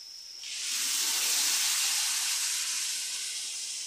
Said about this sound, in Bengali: এবার আমি এতে খানিকটা গরম জল দিয়ে দেবো আন্দাজ মতো।